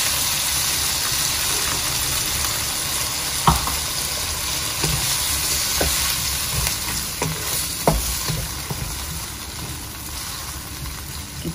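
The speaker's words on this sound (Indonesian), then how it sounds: "Kita aduk. Boleh kita tambahkan air secukupnya juga." Tripe being stir-fried in a pan with water added, a continuous loud sizzle with occasional scraping knocks of the stirring utensil, close and alone without any voices.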